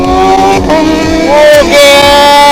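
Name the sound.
sport motorcycle engine revving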